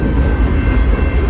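A CN freight train passing in snow, a steady loud low rumble and roar that holds evenly throughout without breaks, close by and with no voices.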